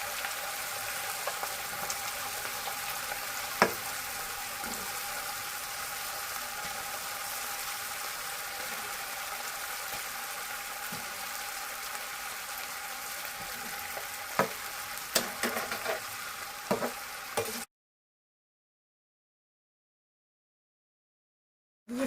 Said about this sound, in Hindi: ये मंचूरियन आपको स्लो फ्लेम पे ये फ्राई करना है।